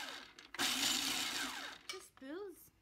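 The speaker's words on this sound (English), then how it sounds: "first I'm going to mix little bit the nuts" An electric blender grinds nuts for homemade energy bars in a short, loud whirring pulse up close, and a voice is heard before and after it.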